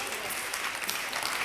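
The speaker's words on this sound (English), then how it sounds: "The tent is getting applause." An audience claps for a demonstration of a pop-up blackout tent, a brief, even burst of applause filling the room at close range without any voices on top.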